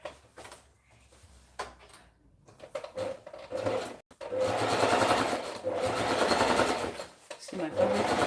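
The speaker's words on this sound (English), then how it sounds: "I'm gonna set my machine at the longest stitch that I have. We're gonna be stitch that up." A sewing machine runs at its longest stitch length through dress fabric, whirring loudly in two long bursts with a short pause between, after quieter handling sounds and some voice.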